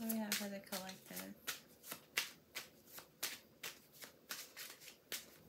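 Card shuffling while meditating over a reading for a collective: a rapid run of crisp riffling clicks and snaps, close and fairly quiet, after a brief voice at the start.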